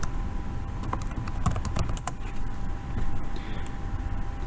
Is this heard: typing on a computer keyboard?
yes